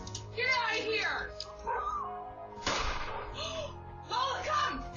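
A dog yips and barks in short, agitated bursts while chasing a car thief at a home driveway, with loud shouting voices and a sharp bang mixed in.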